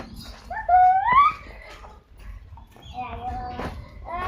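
A puppy being offered flatbread to eat outdoors on a Gujarati family vlog, giving a short rising whine near the start, then quieter yelps amid ambient noise while people talk nearby.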